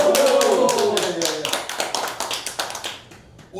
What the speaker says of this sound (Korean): 힘차게 박수치면서 시작하도록 하겠습니다